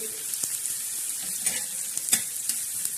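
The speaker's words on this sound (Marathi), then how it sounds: "आता आपला कांदा हा छान असा भाजून घेणार आहोत" Onion roasting on a flat iron griddle for a village-style black masala, a soft steady sizzle with a few light ticks and scrapes, close and alone.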